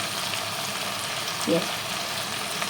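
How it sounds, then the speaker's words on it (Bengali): Ginger, green chilli and garlic paste frying in a pan for aloo dum, a steady close sizzle throughout with a brief stirring scrape midway. "এবার এই মশলা একটু ভালো করে মিক্স করতে হবে"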